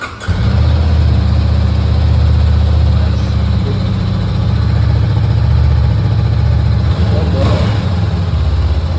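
A motorcycle engine being test ridden runs loud and steady close to the microphone, a continuous low rumble throughout, with voices talking faintly under it.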